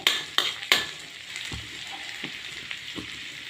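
Paneer roasting on a small tawa, a low sizzle behind a few sharp metallic scrapes at the start, then softer, spaced stirring strokes. Close and moderately loud, with no speech.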